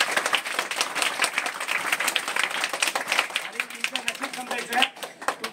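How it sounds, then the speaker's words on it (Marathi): A school audience applauds a mathematics teacher, a dense run of claps that carries on steadily for several seconds and thins slightly toward the end, with some voices mixed in. "सरांसाठी पुन्हा एकदा टाळ्या वाजवायच्या."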